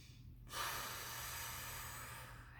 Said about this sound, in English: Feels like I need to take some deep breaths